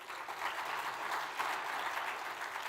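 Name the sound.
audience applause at summit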